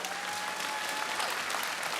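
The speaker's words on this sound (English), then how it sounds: "You deserve the loudest applause we can give you." Steady, dense applause from a gala audience honouring a teacher at a tribute event, sustained and fairly close for about two seconds with no talking.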